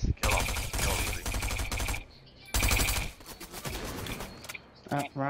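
Rapid video game gunfire in Fortnite, dense automatic bursts that fill most of the clip, with a short pause in the middle and a brief choppy burst near the end, loud and close.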